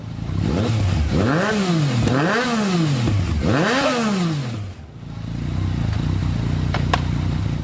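A motorcycle engine revs loudly and close by in three rising and falling surges, then drops to a rough idle before picking up again, with no talking.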